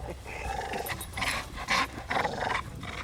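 A dog growls and snarls in rough bursts while tugging at a stick in a backyard, close and fairly loud, with breathy panting between.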